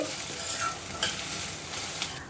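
Moong dal stirred and frying in a pan for sago payasam, a continuous soft sizzle with occasional scrapes of the spoon, close and steady, no voices.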